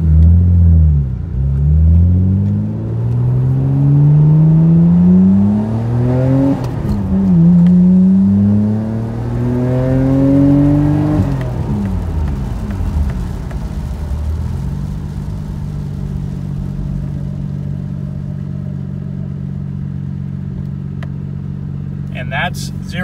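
A fast sports car, a Nissan GT-R or Skyline GTS-T, accelerates hard from a standstill through several rising, shifting engine pulls, then slows and settles into a steady lower drone as it brakes, loud and close with no talk.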